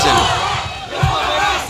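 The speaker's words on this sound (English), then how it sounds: "you hear the crowd" Boxing arena crowd roaring and cheering during the sixth round of a professional fight, a loud, dense wall of voices with a brief swell near the middle, with a commentator's voice faintly over it.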